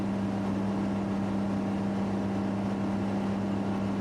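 Steady, droning piston engine of a Cessna C206 Stationair in Flight Simulator X, a constant loud hum that holds unchanged throughout.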